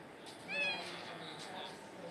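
A cat meows in a video game, a short rising mew at moderate loudness in a quiet scene.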